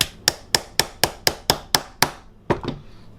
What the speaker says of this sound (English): now that's where you take your hammer,